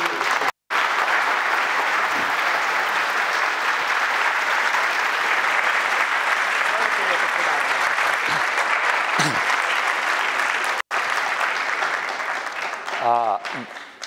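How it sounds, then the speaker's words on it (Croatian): A lecture audience gives a long, loud, sustained round of applause welcoming a guest speaker, dense clapping filling the hall with a couple of brief dropouts and a voice emerging near the end. "sa velikim, velikim pljeskom pozdravite vašeg predavača i našeg gosta"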